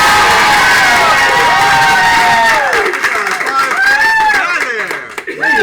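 A studio audience at a comedy improv show cheers, whoops and shouts loudly and continuously, with voices rising and falling before the noise tapers off near the end.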